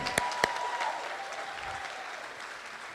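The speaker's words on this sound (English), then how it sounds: "You can clap for that, that's okay." Audience clapping at the Tall Oaks Vocational High School class of 2022 graduation, a steady, moderately distant wash of applause with a couple of sharp near claps early on.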